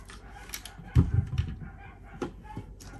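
Chickens in a pen outside a craft studio give a short burst of clucking and squawks, a few close, loud calls over faint background noise, lasting only a few seconds.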